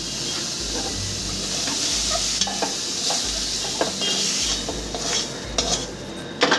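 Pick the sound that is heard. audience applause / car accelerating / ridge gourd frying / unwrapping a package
ridge gourd frying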